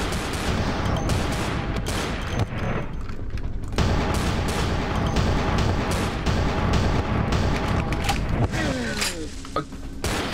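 Heavy gunfire from a powerful big gun in Vampire: The Masquerade Bloodlines, dense bursts of loud shots and booms filling the whole stretch with mechanical clatter between.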